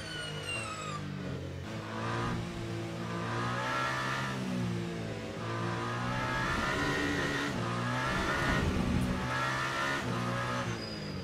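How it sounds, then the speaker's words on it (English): A race car engine in the sim racing game Le Mans Ultimate revs hard and steadily, its pitch climbing and dropping through repeated throttle bursts and gear changes, loud and continuous with a hint of tire noise and no talking. "This game, the engine sounds incredible."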